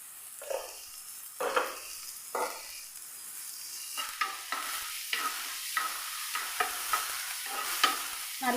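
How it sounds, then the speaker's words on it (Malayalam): Two thinly sliced medium onions sautéing with a pinch of salt in a pan, soft sizzling under repeated scraping stirs with a regular rhythm, close and fairly quiet. "നല്ല പോലെ ഒന്ന് വഴറ്റിയെടുക്കാം"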